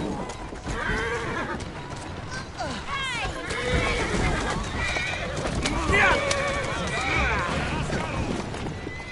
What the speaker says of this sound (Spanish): Tienes un buen caballo.